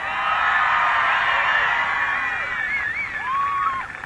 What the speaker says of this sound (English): Can everybody please give Lily a big round of applause for the great introduction?